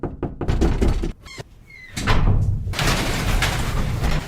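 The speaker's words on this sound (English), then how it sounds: "Presenting the Mystic Knight Sound Effects Collection, Doors, Bangs, and Scrapes." Door sound effects from a studio collection: a couple of sharp knocks and thuds, a quiet pause, then a loud bang followed by a long rumbling scrape, close and clean with no talk.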